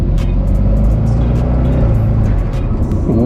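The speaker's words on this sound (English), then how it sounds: "The Lingenfelter is 427 twin turbo, and the turbo noises are pretty good." Lingenfelter 427 twin turbo Corvette accelerating hard, a loud, close, continuous engine roar with rising tone and airy turbo whooshes layered on top, no talk.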